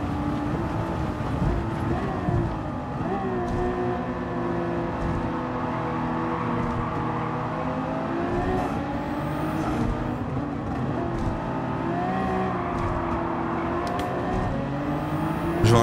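Ferrari 2019 race car in Gran Turismo 7 running flat out at top speed, a loud, sustained engine drone with slight pitch wavering throughout, no voices over it.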